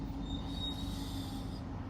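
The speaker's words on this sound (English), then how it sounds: "Squeaky brakes." Squeaky vehicle brakes during a police patrol, a thin high sustained squeal over a loud low rumble of road and engine noise, with no talking.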